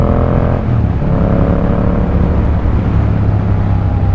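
A Yamaha MT-07 motorcycle with a new exhaust fitted with a dB killer rumbles loudly and steadily up close, a deep-bass engine drone holding a constant throttle without talk.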